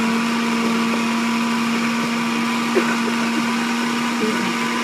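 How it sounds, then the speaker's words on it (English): A Vitamix blender runs at steady full speed, a loud continuous motor whine with a strong hum that holds level throughout, close by. "We'll blend for 60 seconds and it's done."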